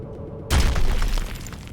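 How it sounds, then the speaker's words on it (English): A sudden loud boom from rocks blowing up in a modded Freelancer space game, with dust clouds and rock particles, erupting after a quiet hum and then rumbling and crackling as it fades. "awesome new animation and sound and effect for blowing up rocks now"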